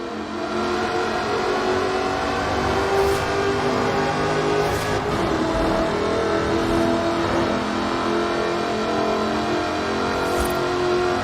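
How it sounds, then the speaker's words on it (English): A 5-litre supercharged V8 in an aluminium-bodied car from Forza Horizon 4 revs loudly and continuously, its dense engine roar rising and falling with throttle throughout. "Powered by a 5-litre V8 supercharged engine, with a fully aluminium body, it's blisteringly fast"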